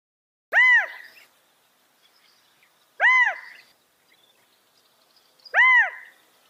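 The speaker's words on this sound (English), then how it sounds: "Q for quail." Quail calls, three loud separate bursts of clear harmonic notes spaced about two and a half seconds apart, close and alone against silence.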